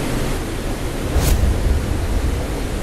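Waterfall and mountain stream at Rochers de Naye in Switzerland, a steady broadband rush of falling and flowing water, continuous and fairly loud with no voices, swelling slightly partway through.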